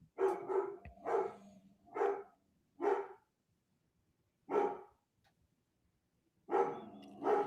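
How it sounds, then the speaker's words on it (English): Dogs barking in a short series of sharp, separate woofs spread across several seconds, with quiet gaps between them, clear and moderately close. "Dogs must be barking."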